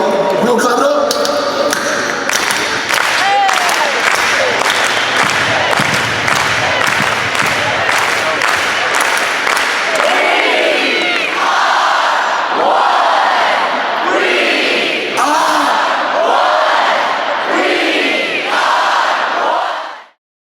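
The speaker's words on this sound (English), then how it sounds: "We gonna clap it up?" A large live audience roars and claps together, a dense wall of applause and shouting that stays loud and close, with voices calling out over rhythmic clapping before ending abruptly.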